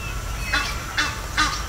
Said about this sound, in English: these loud noises you're hearing are not the parrots but Egyptian geese